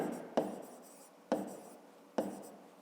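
A pen writing by hand on paper during a fifth-grade maths exercise: three sharp, evenly spaced strokes, each fading into a soft scratchy trail, close and clear with no talking.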